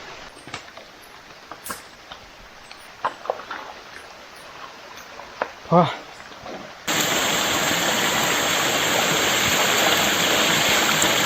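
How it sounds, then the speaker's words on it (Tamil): A forest stream near a waterfall on a rainy day: faint scattered sounds at first, then a sudden steady broadband rush of flowing water fills the scene. "ஃபாரஸ்டோட ஓடை தான் அது. ஒரு அங்கே சவுண்டு கேட்குது, பக்கத்தில் தான் இருக்கும்."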